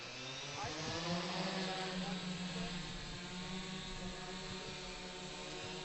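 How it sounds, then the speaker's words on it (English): A light aircraft's propeller engine starts up and runs steadily, a dense droning hum with layered harmonics that holds a constant, fairly loud level throughout. "Before I start the engine, I make sure it's clear, there's no one around."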